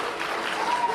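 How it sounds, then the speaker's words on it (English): A crowd at a public event gives a brief, broad roar of booing, a steady wash of many voices heard from a middle distance. "They're booing him."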